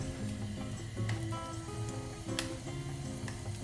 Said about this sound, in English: dip the aubergine in the batter one at a time and put them in my pan like that